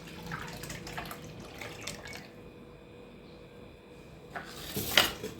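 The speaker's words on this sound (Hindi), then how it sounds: "ये मैं एक अलग बर्तन में निकाल लेती हूँ छाछ को।" Buttermilk is poured from one kitchen vessel into a separate pot, a soft liquid trickle with light clinks of the utensils that swells into a louder splash near the end.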